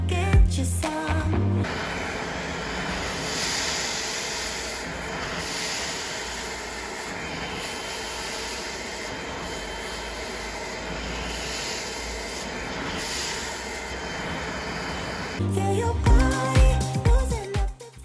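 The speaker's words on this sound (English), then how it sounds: "I love seeing the dirt getting sucked up into this Bissell spot cleaner." A Bissell spot cleaner sucks dirt out of car seat upholstery. Its motor gives a loud, steady, close roaring whine for about fourteen seconds, with bumps and handling noise before it starts and after it stops.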